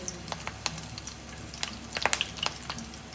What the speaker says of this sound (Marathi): मग आपण ह्याच्यामध्ये लसूण आणि कढीपत्ता घालायचा आहे